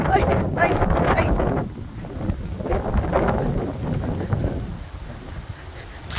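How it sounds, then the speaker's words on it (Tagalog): Rain begins falling during an August storm, a broad hiss of downpour with gusty wind rumble that swells and eases over several seconds, while voices exclaim in the background. "Storm na naman. Ano ba yan? August pa lang. Ay! Ayan na! Umuulan na!"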